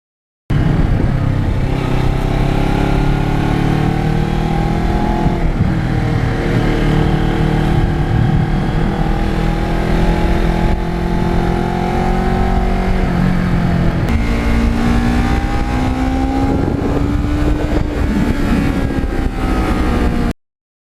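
A 2009 Kawasaki Ninja 650R motorcycle being ridden, its engine droning loud and continuous with rising and falling revs through gear changes, mixed with heavy wind noise and no speech.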